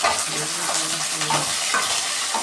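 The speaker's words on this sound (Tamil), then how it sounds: "நல்லா வதக்கி விட்டுக்கோங்க." Potatoes and vegetables sauté in hot oil for a dried fish curry, sizzling loudly and steadily up close while being stirred with a few soft scraping strokes.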